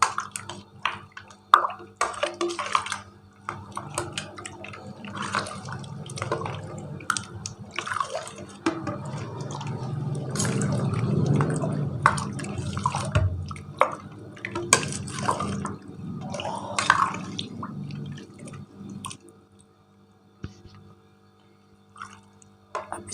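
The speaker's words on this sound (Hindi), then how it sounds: "ऐसे मिक्स कर देंगे इसको बर्फ़ के पानी के अंदर।" Melted ghee is stirred into a bowl of ice water, giving irregular sloshing, swirling and dripping with small clinks, moderately close, intensifying in the middle and tapering off toward the end.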